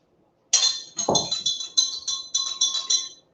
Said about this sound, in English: I'm just going to pull this mint up, and I'm just going to stir all of this together.